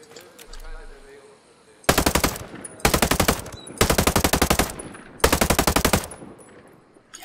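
Machine gun fire in Ghost Recon Breakpoint, loud and close, arriving in four long rapid bursts separated by short pauses, after a quiet stretch of low game ambience at the start.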